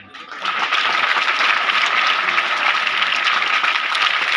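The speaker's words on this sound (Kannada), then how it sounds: "ಚಪ್ಪಾಳೆ ಮೇಲೆ ಚಪ್ಪಾಳೆ ಮಳೆ ಗಳಿತಾ ಇದ್ರಲ್ಲ" Loud, sustained applause from a large crowd at a school teacher's farewell ceremony, steady and dense throughout after a brief quiet start.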